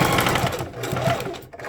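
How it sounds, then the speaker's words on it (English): A sewing machine stitches the seam of a fabric scrunchie in a short close burst of rapid mechanical whirring and chatter. "I'm going to take it and I'm going to sew it again. So I'm going to sew it down."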